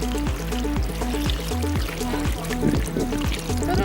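Water poured into a solar-powered fountain, a continuous gurgling splash and trickle at close range with no talking over it.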